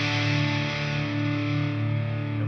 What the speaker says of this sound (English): The next chord you're going to play after that is a D